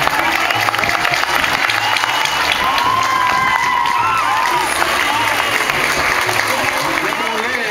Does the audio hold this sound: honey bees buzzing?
no